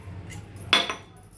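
A metal kadai wok set down on a stove gives a single short metallic clank with a brief ringing tail, moderately close, against faint room hum.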